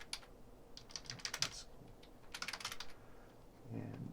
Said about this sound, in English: And if I type,